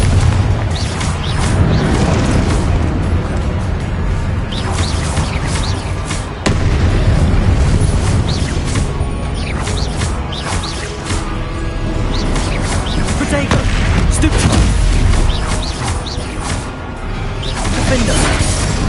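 Confringo blasting spells explode repeatedly in Hogwarts Legacy combat, a loud, continuous run of booming bursts and crashes layered over busy game sound with voices shouting.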